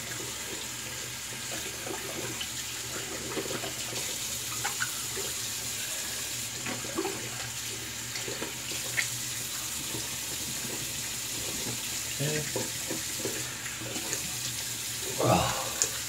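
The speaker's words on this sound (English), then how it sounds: "Rinse the brush here." A shaving brush is rinsed under a running bathroom tap, a steady broadband water hiss with small splashy shifts as the brush moves through the stream, ending in a louder gurgling splash.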